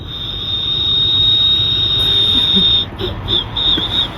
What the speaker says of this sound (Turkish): Ağzın kapalı ıslık çalabilirim